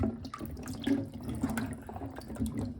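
Banana peppers, bell peppers, jalapenos and cucumbers are swished and rinsed in a sink of water, giving a steady close sloshing with small splashes and drips, no talking.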